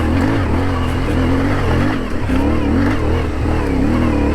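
A CFMOTO 450MT adventure motorcycle pulls away from a standstill in first gear on a rocky, washed-out off-road trail. The engine drone stays loud and steady, its pitch climbing and wavering with a brief dip midway, with wind rush throughout.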